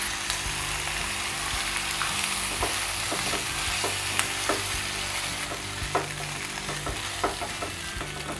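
Pasta stirred in a pan over a low flame, a continuous soft sizzle broken by repeated scraping and tapping strokes of a spoon against the pan, close and alone.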